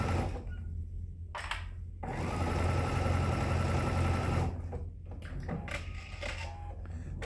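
A sewing machine running a long basting stitch around the raw edge of fabric for a tissue tote, a steady mechanical whir building to a sustained run in the middle, then easing off with lighter intermittent stitching.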